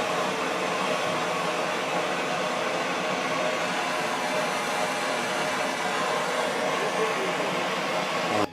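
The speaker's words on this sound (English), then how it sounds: "More soldering the pipe over here." A torch roars steadily while soldering in-ground sprinkler pipe at a manifold, a constant close hiss that carries unbroken until it cuts off abruptly at the very end.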